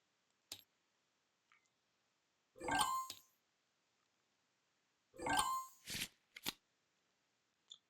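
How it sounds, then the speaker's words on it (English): A deck of cards being riffle-shuffled twice, each burst of quick papery flutter followed by a soft tap and clicks as the cards settle. "we both shuffle our decks"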